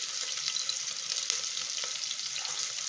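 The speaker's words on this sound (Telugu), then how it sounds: "ఇప్పుడు మనం ముందుగా ఇందులో తరిగి పెట్టుకున్న పచ్చిమిరపకాయలు అండ్ తరిగి పెట్టుకున్న ఆనియన్" Green chilies and chopped onions sizzle steadily in hot oil in a pan, a dense continuous frying hiss with faint stirring clicks, close and fairly loud, no voices.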